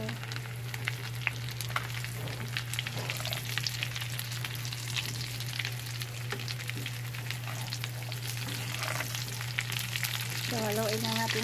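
Pork humba fries in a pan, Bisaya style, with a constant close sizzle and frequent scrapes and clatters of a stirring utensil, alone without talk.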